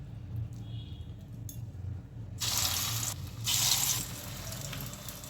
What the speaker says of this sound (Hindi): इसी में हम सारी बॉल को हम फ्राई कर लेते हैं।